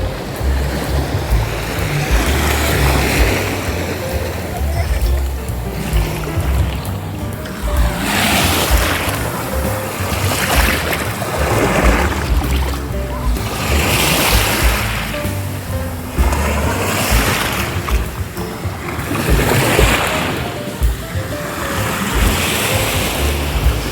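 Sea waves rolling onto a clean beach at Dalaroy Beach Resort in Cavite, with repeated surges of surf breaking every few seconds over a steady roar, close and loud, with some wind buffeting the microphone.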